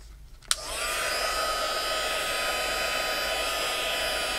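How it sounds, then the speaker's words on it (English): After a click, a heat tool for embossing powder on a card starts up and keeps blowing in a steady, close, whining whoosh. "So let me put this back and then we're going to emboss that."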